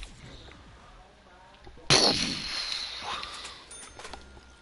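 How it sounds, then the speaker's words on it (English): A ray gun fired at a clock in Call of Duty Zombies, one sharp metallic zap-and-clang burst midway that rings and fades, with quiet talk around it. "Shot the clock with the ray gun and it turns on a."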